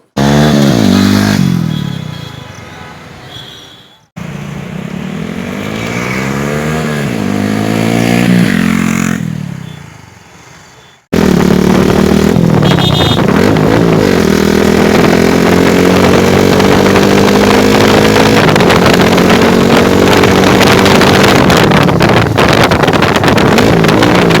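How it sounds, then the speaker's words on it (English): A loud Honda X-Blade motorcycle with a raspy Two Brothers aftermarket exhaust roars past twice, its pitch rising and falling with each pass, then revs hard and holds a sustained drone. "there will be a flyby video of this motorcycle with that exhaust on"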